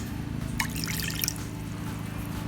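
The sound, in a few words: water being poured into a bowl of annatto seeds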